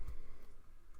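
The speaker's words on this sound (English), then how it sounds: "And then we'll hit enter." A single soft tap on a computer keyboard as the enter key is pressed, brief and close, with a faint second click at the very end.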